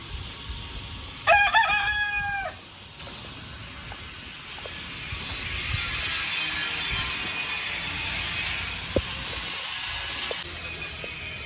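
A Rhode Island rooster crows once nearby, a clear stepped cock-a-doodle-doo, and a soft clucking and rustling flock and faint ambient noise from a small farm follow.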